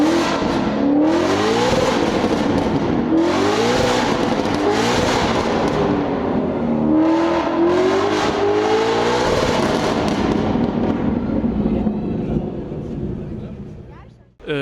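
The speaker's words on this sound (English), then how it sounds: "Right now there was a Vulcan Alpha Ford Mustang. Crazy sound. I recorded it for you." A Vulcan Alpha Ford Mustang race car at a 24-hour endurance race screams through repeated upshifts, its engine note rising in pitch again and again, loud and close, then fading away as it passes.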